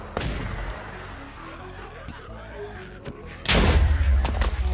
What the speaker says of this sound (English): But what happens when there's a massive amount of gunfire?